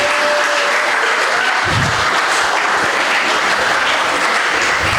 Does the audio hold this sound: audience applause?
yes